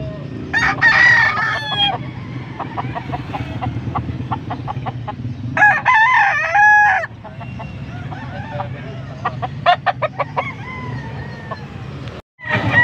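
Bull stag roosters at a poultry market in Angeles, Pampanga, crow loudly and repeatedly, with clucking around them over a busy background murmur of people talking.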